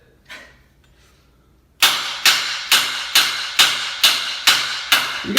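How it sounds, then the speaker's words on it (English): A hammer strikes a bolt in a steady rhythm, about eight sharp, loud, evenly spaced blows after a brief quiet start. "Hit it with the hammer."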